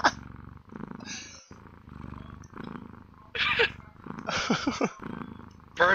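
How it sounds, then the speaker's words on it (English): A cat purrs close by in a low rumbling rhythm, with a few brief higher chirps and scuffles mixed in. "It's purring."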